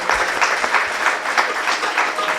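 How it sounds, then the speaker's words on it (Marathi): An audience claps steadily for performers after songs at a 2020 cultural gathering, a dense, even wash of applause filling the hall without pause. "या सर्व कलाकारांच्यासाठी पुन्हा एकदा आपण टाळ्यांचा गजर करूया."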